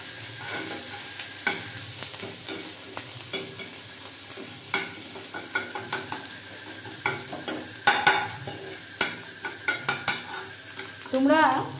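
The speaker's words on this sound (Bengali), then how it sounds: "এটা আমাদের বাড়ির শুকনো লঙ্কা বাটাটা দিলাম। তারপর এটাকে ভালো করে ছড়িয়ে দিলাম একটু ভাজা ভাজা হওয়ার জন্য।" Dried chilli paste fries in a pan with a low steady sizzle, punctuated by frequent spatula scrapes and clinks against the metal, close and fairly quiet.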